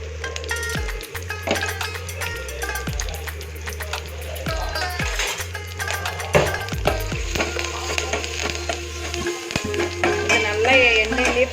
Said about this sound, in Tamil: எண்ணெயிலே ஃப்ரை ஆகட்டும்